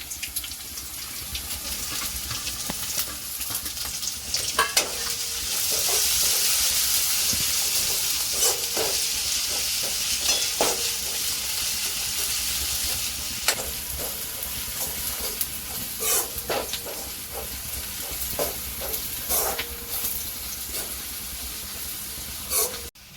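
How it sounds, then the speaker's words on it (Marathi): Chopped garlic, ginger and green chillies sizzle in oil in a pan, a continuous close hiss broken by scraping stir strokes and sharp crackles, with no talk. "बघा, आपली ही लसूण आलं मिरची व्यवस्थित फ्राय झालेली आहे."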